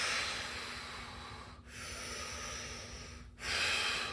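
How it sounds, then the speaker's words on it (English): A deep yoga breath forced out hard through the nose and mouth, a long close rushing exhale that briefly pauses and then surges again, with no talking. "Fill the lungs to capacity and then squeeze the breath out."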